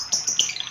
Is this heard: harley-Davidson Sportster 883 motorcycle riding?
no